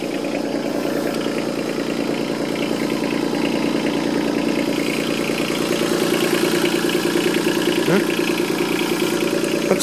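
A Yanmar SC2450 tractor engine runs steadily with its starter stuck engaged, a loud, continuous mechanical drone with a faint whine layered over it, close by and unbroken throughout.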